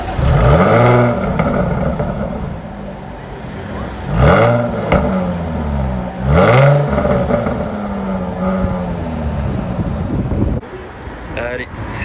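Jaguar F-Type Coupe S with a supercharged 3.0 V6 making 380 hp starts up and revs, with loud swelling engine blips and rising pitch sweeps near the microphone, amid some wind noise.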